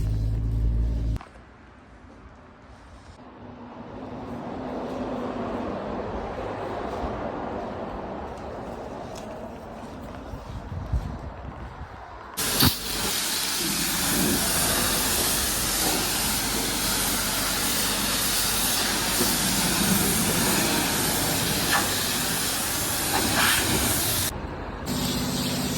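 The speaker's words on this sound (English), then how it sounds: "So we are arriving at the car wash right here." An automatic car wash sprays water, starting with a muffled rumble heard from inside the car. A loud, steady hissing blast of spray then begins and holds for over ten seconds before cutting off abruptly.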